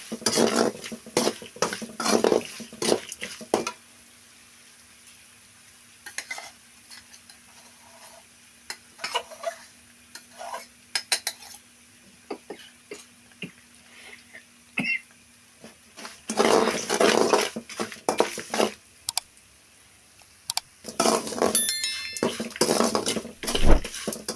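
Curry leaves frying in a pan, with bursts of loud crackling sizzle and clattering utensil stirs separated by quieter stretches carrying a low hum, close by, no voices.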